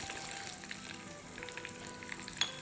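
Hot oil sizzles steadily as a tadka with Kashmiri chili powder crackles in the pan for a dal, a close, even frying hiss with no talking.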